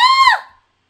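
A little girl's shrill scream from the video game Ghost Trick: Phantom Detective rings out once, loud and close, rising then sliding down and fading within about half a second, alone.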